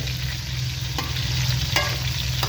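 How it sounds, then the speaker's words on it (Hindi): Chicken frying with golden onions and garlic in a pan for gobhi gosht: a loud, dense, continuous close sizzle with a low steady hum, broken by a few quick stirring scrapes, and no voices. "शामिल करके हमने चिकन को 3 से 4 मिनट हमने फ्राई करना है।"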